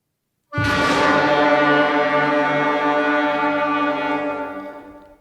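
A sixth-grade middle school band sounds one pleasant unison note: a sudden loud, steady, rich-toned chord held for about four seconds, then tapering off, with no talking.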